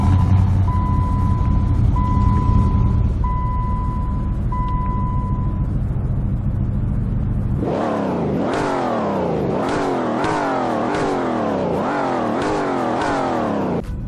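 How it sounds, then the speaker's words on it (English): In Roblox Greenville, a steady electronic beeping plays over a low hum before an SRT8 car engine takes over, revving hard in about six quick, loud, rising pulls, each falling back between bursts. "this car actually sounds different from the normal SRT8."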